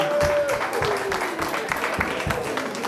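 Applause from a Dutch carnival evening audience, clapping broken by rhythmic thumps and what sounds like a faint whistle, with some voices mixed in, fairly loud throughout.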